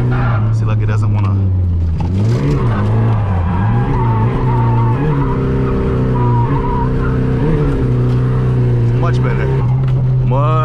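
A Nissan S14 drifting: a loud, close engine holds a steady droning pitch that dips and recovers, while a continuous tire skid hisses over it.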